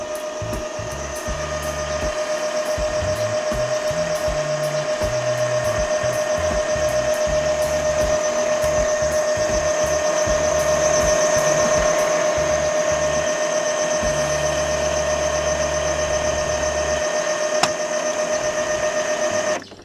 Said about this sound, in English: what the printer does is suctioning the ink from the tanks going to this hose